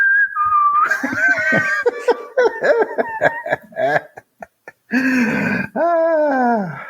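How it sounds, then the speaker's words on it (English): Children whistle loudly and close by, with sliding, warbling notes broken into short bursts and gaps, mixed with what sounds like chuckling. "If it'll just stop the kids whistling, that would be even better."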